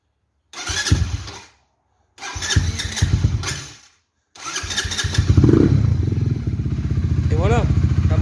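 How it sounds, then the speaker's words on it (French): A Honda CBR 125 motorcycle engine cranks in two short bursts, then catches and settles into a steady, close idle with a brief rev. A voice speaks over the cranking. "Et voilà, la moto est partie"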